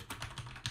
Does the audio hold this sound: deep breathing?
no